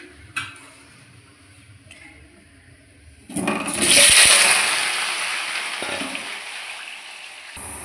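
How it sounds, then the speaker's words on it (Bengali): Potatoes frying in hot oil in a wok, a sudden loud hiss and sizzle that flares up midway and then settles into a steady crackle, after quieter clinks at the start. "এবার আমি আলুটাকে লাল করে নেব। তেলটা দিয়ে দিই, আলু লাল করার জন্য লবণ দিয়ে দেবো।"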